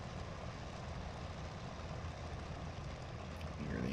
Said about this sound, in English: Hear the engine coming down.